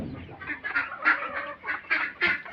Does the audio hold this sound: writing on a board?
no